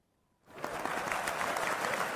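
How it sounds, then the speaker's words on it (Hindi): An audience bursts into applause during a pause in a speech by Modi, starting after a short near-silence and holding as steady, dense clapping to the end. "जैसे ही वो पॉज देंगे ताली बजेगा"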